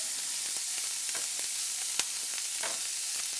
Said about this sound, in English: 2 onions that I'm putting in, about medium-sized onions, and we're just going to saute those a little bit here